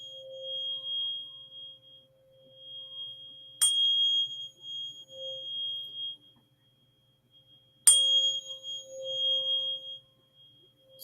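A 528 Hz tone played from a phone holds a steady pure pitch, with bright chirp-like bursts at two points and the sound dropping out briefly near the end; no one speaks over it.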